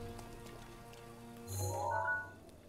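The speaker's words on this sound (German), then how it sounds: "Natürlich muss auch noch regnen, ist klar." Rain falling in the video game The Legend of Zelda: Breath of the Wild, a soft steady patter under the game's music and effect tones, fairly faint throughout.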